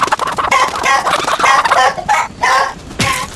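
A chicken clucks in a rapid burst of close, loud calls in the VR game Grow, with short pauses between the clucks.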